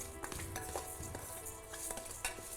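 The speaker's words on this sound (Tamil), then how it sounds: "வெறும் கடாயிலேயே பாசிப்பருப்பை ஒரு 2 ஸ்பூன் அளவுக்கு போட்டு வறுத்து எடுத்துக்கலாம்." Moong dal dry roasted in an empty kadai over a low flame with no oil, the lentils scraped and stirred with a spoon in quick repeated strokes, a soft continuous rattling and sizzle close up.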